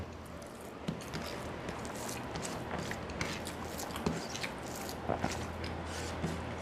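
Someone eats mashed taro with rice in close-up, with soft squishy chewing and wet mouth sounds over steady background noise.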